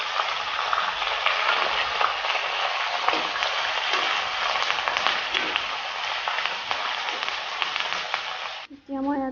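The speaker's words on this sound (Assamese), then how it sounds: "এনেদৰে মই অলপ সময় ভাজিম লোৱা গাহৰি মাংস যোগ কৰি দিম" Chopped ginger and garlic sizzling in hot oil for an Assamese-style pork pickle, a dense, steady crackling fry that runs throughout, ending with a brief clatter.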